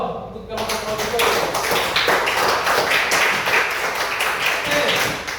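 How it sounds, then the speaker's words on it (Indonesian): A classroom audience claps for a group of participants, bright dense hand clapping that runs loud and steady for several seconds while a presenter talks over it. "kita berikan aplaus kalau untuk kelompok auditori"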